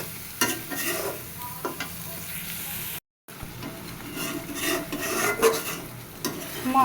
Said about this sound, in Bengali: মশলাটা কষাই নিব।